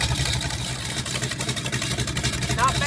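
A freshly rebuilt 289 V8 bored 30 over runs steadily at close range with a rough, pulsing idle, and a voice speaks briefly over it.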